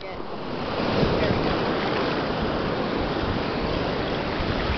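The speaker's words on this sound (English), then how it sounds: "The waves are not good." Ocean waves washing onto a beach, a steady broad roar of surf with wind noise, fairly loud and unbroken, with people talking faintly.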